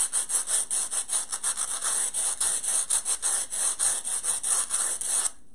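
Two pieces of floral foam rubbed briskly together, a close, steady rasping scrape in quick repeated strokes that runs for about five seconds and then stops abruptly, with no talking.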